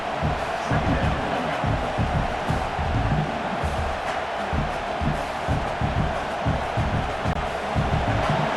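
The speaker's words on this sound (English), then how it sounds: "This crowd trying to make life miserable for this offense." A dense stadium crowd roars in a college football video game, a continuous broad wash of noise with rhythmic surges like chanting beneath it, loud and steady throughout.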